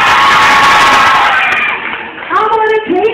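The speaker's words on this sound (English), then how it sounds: "give me your loudest cheer for Mr." A large crowd cheering and screaming loudly at a live show segment, a dense roar that fades after a couple of seconds as a voice shouts over the tail of it.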